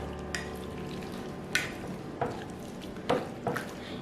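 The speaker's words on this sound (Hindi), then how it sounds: "जब तक मैं इसे मिक्स कर रही हूँ" A soy sauce mixture is stirred in a pan, soft scraping strokes and a few sharper utensil knocks rising over a low, steady sizzle, close and moderately quiet, with no talking.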